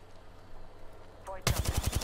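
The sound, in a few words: gunfire in Apex Legends video game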